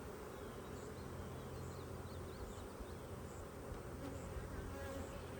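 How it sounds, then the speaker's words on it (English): Honey bees buzz around an open hive on a farm, a steady faint drone with no voices. "As many bees as this is."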